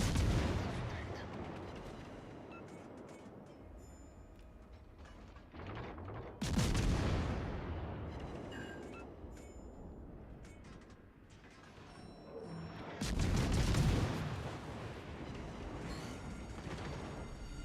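Naval gunfire from warships firing armor-piercing shells in the game World of Warships: Legends, with heavy booming salvos near 6.5 and 13 seconds over a steady rumbling battle backdrop.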